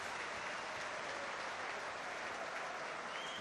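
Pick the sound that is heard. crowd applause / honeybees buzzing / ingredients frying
crowd applause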